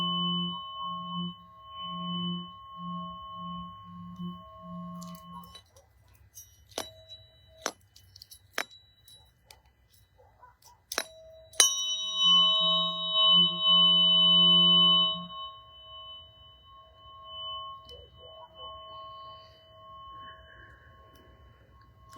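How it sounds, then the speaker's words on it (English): A pair of tuning forks, tuned to 639 and 174 Hz, rings together in a backyard at night. Sharp strikes and clinks break up the steady pure tones, which then swell again and fade slowly. "Can you hear both of the tones?"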